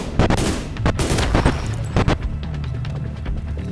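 Gunfire in The Division 2: a loud cluster of rapid, sharp shots in the first second or so, a few more bursts around two seconds, then fading to a lower rumble of background combat noise.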